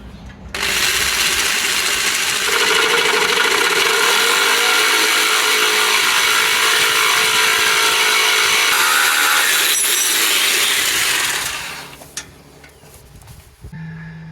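Power saw cutting through an aluminium piece, a loud, steady high-pitched whine and grinding that lasts about eleven seconds before dropping off to quiet handling noises.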